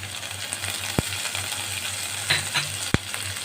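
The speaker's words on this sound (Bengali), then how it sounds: "আমি এই আদাটাকে একটু নেড়ে নিচ্ছি" Ginger and green chilli stirred in a pan of oil with cumin seeds, a steady low sizzle of frying under a few sharp scrapes and clicks of the spoon against the pan.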